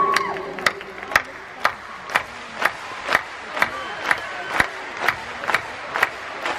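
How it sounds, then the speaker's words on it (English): A concert crowd at a show claps in unison to a steady beat, about two sharp claps per second, loud and evenly spaced above a murmuring audience. "I'd like you to clap your hands to this beat."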